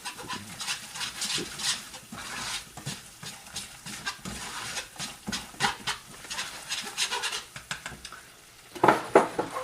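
Gluten-free macaroni is stirred in a boiling pot, with repeated scraping and clinking of a utensil against the pot over a soft bubbling, close and moderately quiet.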